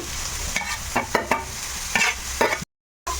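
Chopped vegetables and onions for veg momo filling sizzle steadily in a pan while a spoon stirs them in several quick scraping bursts, loud and close, before a brief cut to silence.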